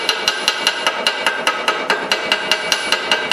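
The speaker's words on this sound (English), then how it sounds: "Weld about an inch, brush flux off," A wire brush scrubs flux off a fresh weld on a cast iron Bridgeport mill vice, rapid rhythmic strokes repeating about every quarter second, close and loud with no talk.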